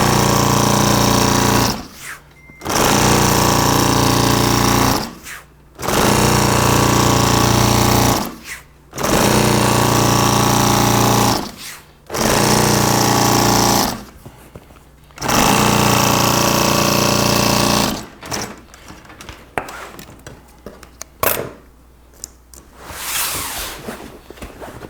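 An industrial sewing machine stitches canvas for a 38-foot Sea Ray boat bimini top, running in loud rapid bursts of several seconds each, six runs separated by short pauses, followed by quieter handling noises.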